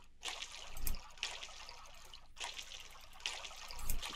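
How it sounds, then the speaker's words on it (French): Water trickles and splashes in short bursts as a watering can is filled at a waterfall in the farming game Coral Island. The bursts are faint and arrive in an uneven rhythm, with no voices. "On va remplir l'arrosoir."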